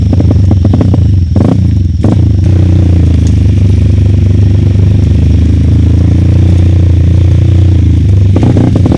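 A Kawasaki KLX motorcycle engine idles loudly and close, a low steady rumble with a few brief clattering blips and slight revs.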